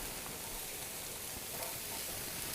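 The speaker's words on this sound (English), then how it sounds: "I'm going to go ahead and throw my onions into the skillet" Onions sizzle in a hot skillet, a faint, even hiss that holds steady from start to end with no other sounds.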